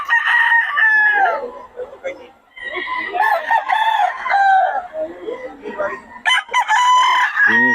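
Several roosters crow loudly and close, their long strained calls overlapping one after another, with clucking fowl in between.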